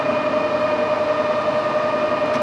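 A metal lathe spins at 640 RPM while facing a 1.5 inch steel bar, producing a steady, close mechanical whine with strong sustained tones and no talk.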